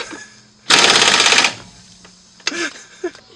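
A 3/8-inch drive ratchet works on a seized trailing arm bracket bolt on a Subaru Forester, giving a loud, rapid burst of chattering clicks lasting under a second, followed by a few quieter knocks and clanks.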